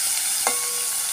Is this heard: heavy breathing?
no